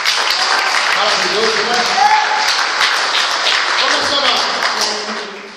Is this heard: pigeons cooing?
no